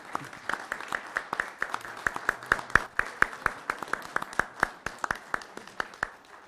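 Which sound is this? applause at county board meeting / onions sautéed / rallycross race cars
applause at county board meeting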